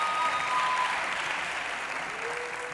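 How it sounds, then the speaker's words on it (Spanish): Sustained applause from an awards ceremony audience, the Anton Awards in Ecuador, a dense steady clapping that holds strong and eases slightly toward the end, with no voices over it. "Un fuerte aplauso para ellos y para ustedes."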